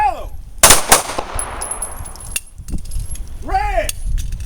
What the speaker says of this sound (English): Push your arms, lock straight out at it, then pull the trigger.